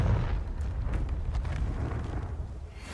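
A Confringo fire spell bursts in Hogwarts Legacy, a loud, rumbling blast with a heavy low-end roar that stays dense and sustained for a few seconds, slowly easing off.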